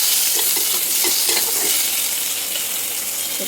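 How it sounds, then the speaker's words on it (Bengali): Green banana, papaya and potato pieces frying in hot oil, a dense continuous sizzle with faint stirring scrapes underneath, close and loud throughout, without speech. "কাঁচকলা, পেঁপে, আলুটা করে ভাজতে হবে।"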